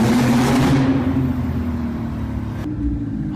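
A Porsche 911 Turbo with a twin-turbo engine and missing heat shields by the turbos drives along at close range, a steady rumbling drone that falls slightly as the throttle eases.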